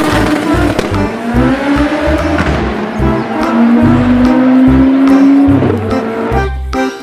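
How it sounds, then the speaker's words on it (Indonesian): A toy race car makes electronic racing sounds, rising engine-like whines and tire-squeal tones over a busy pulsing beat, loud and close. "Wow, lihat di sini ada mobil balap."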